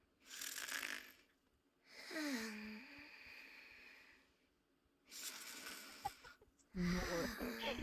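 A video game character snoring in Genshin Impact, with drawn-out breathy snores repeating in slow cycles and pitched vocal tones woven through them, separated by quiet pauses.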